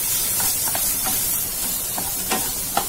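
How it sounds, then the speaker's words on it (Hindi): Sliced onions sizzle in hot oil in a pan for a black pepper chicken dish, a steady close hiss with occasional spatters and faint stirring scrapes, no voices. "इसके बाद मैं इसमें डालूंगी ये अनियन, अनियन को हम गोल्डन ब्राउन होने तक फ्राई कर लेंगे"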